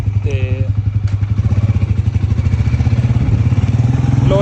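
A motorcycle engine runs steadily at close range with a rapid, even low throb, carrying a mother and son on board, while people talk over it.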